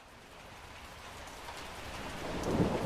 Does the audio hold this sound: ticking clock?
no